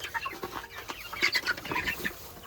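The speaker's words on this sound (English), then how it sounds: "And there's all my chickens." Backyard chickens clucking among a small flock that also includes ducks, with bursts of overlapping clucks and calls throughout, fairly close.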